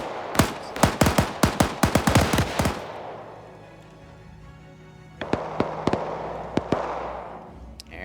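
Aircraft strafing gunfire from a P-47 in a war video game: rapid bursts of sharp cracks, one long fast volley followed by a quieter lull with rumbling, then a second, sparser string of loud shots.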